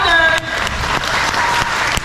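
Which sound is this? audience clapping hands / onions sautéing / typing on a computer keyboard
audience clapping hands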